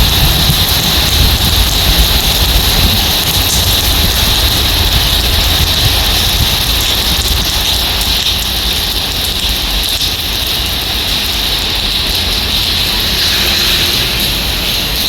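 Summer rain pouring steadily in Dubai, a dense, constant hiss of falling water that stays even and unbroken throughout, with no voices.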